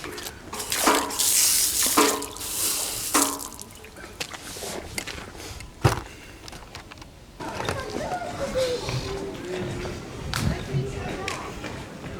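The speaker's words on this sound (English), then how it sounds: "Told you guys the water here from the ground is drinkable. Here you can tap it." Groundwater running from a tap in the Meijendel nature reserve, an outdoor splash and trickle that rises and falls, with people talking over it.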